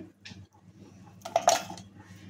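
Someone handles a mixer grinder jar and drops roasted peanuts with their skins into it. A few light clinks come first, then a short burst of rattling clatter as the nuts hit the jar, with no voice.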